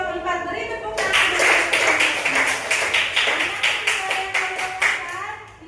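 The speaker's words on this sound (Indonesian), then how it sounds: "Beri tepuk tangan." Students in a classroom clapping for a group's presentation, a burst of quick, rhythmic hand claps that starts abruptly after a brief voice and stays loud and close for about five seconds.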